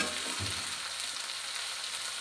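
Drumstick flowers sautéing in sesame oil after onions, a dense continuous sizzle heard up close with a brief stirring knock near the start, no voices.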